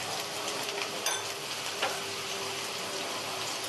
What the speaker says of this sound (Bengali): এবার লবণ, হলুদ দিয়ে আমি ভালো করে আলুটা ভেজে নিচ্ছি